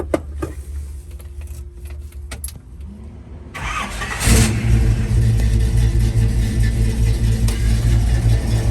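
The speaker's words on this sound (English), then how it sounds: "Time for a cold start with the old carburetor." A car engine with an old carburetor turns over on a cold start after some handling noises, then catches with a loud burst and holds a rough, heavy idle rumble nearby.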